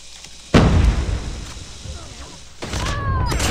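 Gunfire and a heavy explosive burst from the mobile shooter Call of Duty Mobile: a sudden loud blast, then scattered shots and pops, with a player talking over the action.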